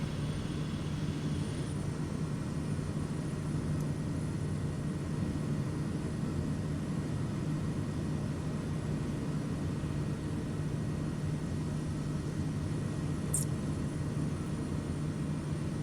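Propeller aircraft engine in a flight simulator game on a bush flight in Papua New Guinea, a steady droning hum held at constant loudness throughout with no talking.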